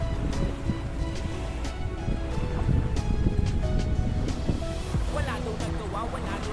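Sea waves wash steadily onto the sandy shore of Manila Bay, a constant loud rushing surf with no pauses, while a voice talks faintly underneath.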